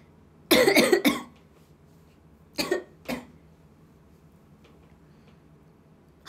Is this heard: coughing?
yes